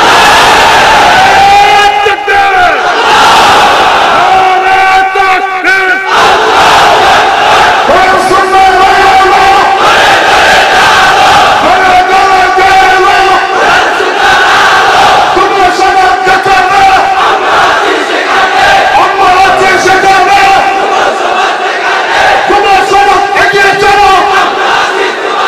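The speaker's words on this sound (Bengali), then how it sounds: "জিহ্বা খুলে কণ্ঠ আওয়াজ করে একটা তাকবীর দাও" Large crowd at a Bengali Islamic religious sermon (waz) shouting takbir, Allahu Akbar, in loud, sustained, repeated chanted waves that fill the whole stretch, with voices rising and falling together.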